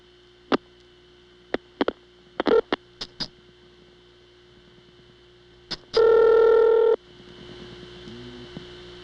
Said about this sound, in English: A little bit of crosstalk from another motor switch, making the hunt noise there.